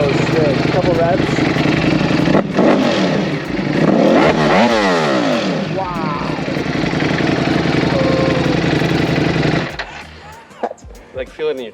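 A Lamborghini-edition Ducati Panigale engine revs hard several times close up, rising and falling in pitch over a loud steady idle, before cutting out; voices talk over it.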